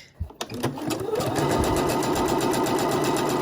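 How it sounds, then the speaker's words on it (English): A Pfaff Passport 3.0 sewing machine stitches a seam in quilting cotton: a few clicks as it starts, then a steady close whirring hum with a rapid needle chatter running throughout. "we're just going to make a nice little seam on this fabric"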